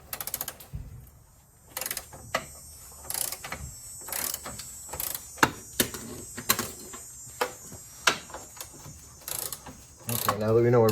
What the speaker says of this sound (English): we're just going to put this 19 millimeter wrench here.